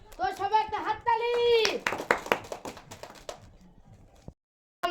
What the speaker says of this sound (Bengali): তো সবাই একটা হাততালি